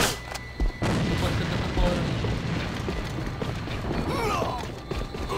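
A grenade explodes in a multiplayer shooter game, a loud, dense booming roar that fills the clip with rumbling debris after a brief sharp burst, with voices heard amid the noise.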